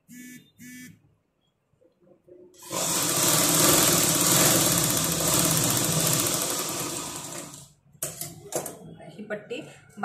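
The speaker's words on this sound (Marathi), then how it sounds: "आणि अशा पद्धतीने ह्याच्यावर एक टीप मारून द्यायची." An electric sewing machine runs a seam along a blouse strip in one continuous, loud, whirring burst of fast needle stitching lasting several seconds, with brief speech before and after.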